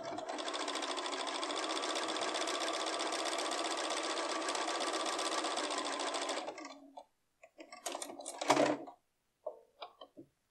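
A Bernina B570 Quilters Edition sewing machine stitches voile fabric, running in one steady, close, continuous whir for about six seconds, then stopping and giving a few short stop-start bursts and clicks.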